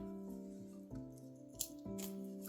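Scissors snip crochet yarn on an amigurumi piece, a couple of quiet crisp cuts over a steady background hum, close and faint.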